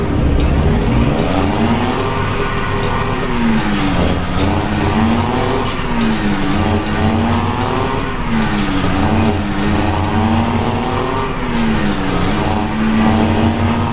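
A Cummins N14 truck engine in a driving video game revs up and down in repeated cycles, a loud, deep diesel drone with rising and falling pitch as the gears shift, heard close and alone.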